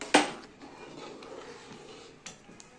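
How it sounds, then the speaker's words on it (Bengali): Chopped vegetables being stirred into thick mung dal in a cooking pot. Quiet stirring runs throughout, broken by a sharp spoon clank near the start and a lighter knock near the end. "ভালো করে মিশিয়ে নেব।"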